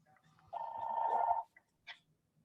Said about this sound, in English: my phone is ringing in the background